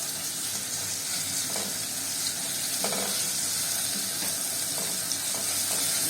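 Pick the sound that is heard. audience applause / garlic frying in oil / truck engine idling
garlic frying in oil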